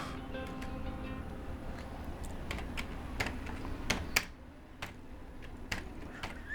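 Fingers type on a computer keyboard, a quick irregular run of light clicking keystrokes, close but faint over a low background hum.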